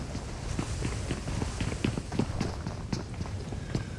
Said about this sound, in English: Loco-san hears the footsteps going through the store across the way